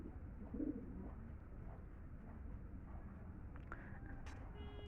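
Pigeons at a Sunday pigeon market in Rajarhat coo through a steady wash of crowd noise, with a soft low cooing burst near the start and brief higher bird calls toward the end.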